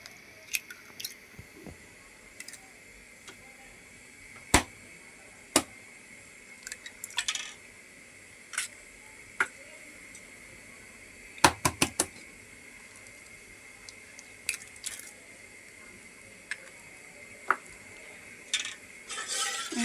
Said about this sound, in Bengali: এখন ডিমগুলি মিক্সার করে নিব